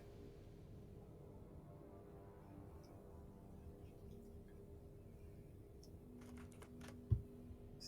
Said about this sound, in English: I hear furious clicking. That's because I'm typing.